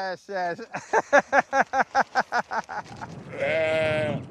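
Sheep in a flock on a Scottish farm bleat close by: a quick run of wavering, pulsing calls, then one longer, fuller bleat at the end.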